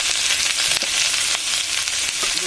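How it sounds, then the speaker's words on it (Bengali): Cucumber pieces with salt, turmeric and spices fry loudly in a pan, a dense, continuous hissing sizzle with small crackles, close and uninterrupted. "হালকা একটু ভেজে নিব।"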